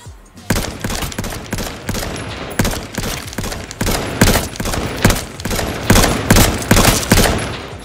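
Rapid bursts of automatic gunfire in the H1Z1 Battle Royale video game, loud and close, firing in dense repeated volleys across the whole stretch with no talk.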